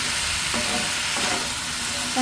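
Spice-coated fish and pumpkin fry in a pan with a loud, continuous sizzle and a faint scrape of stirring now and then.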